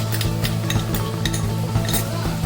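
Ginger-garlic paste hits onions frying in a pan, giving a dense, continuous sizzle up close. Quick stirring scrapes and light utensil clinks recur throughout.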